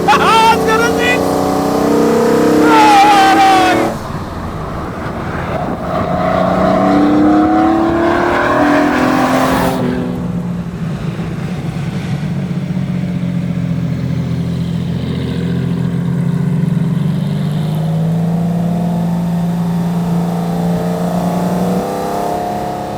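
1960s Le Mans Jaguar race car driving on the Croft race circuit, its engine droning and rising in pitch through gear changes, loud and near at first then steadier, with someone talking over it.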